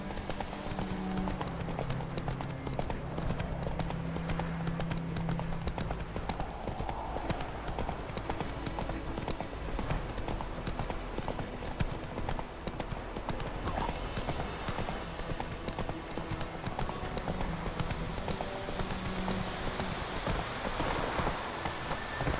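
Steady hoofbeat clip-clop of a horse galloping in The Witcher 3, loud and continuous with a faint whinny and game music underneath, no talk.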